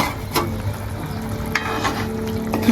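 Peanut bhajiya fritters dropped into a curry frying in a pan, giving a steady close sizzle and bubbling with a few sharp clatters of the pieces and spoon against the pan.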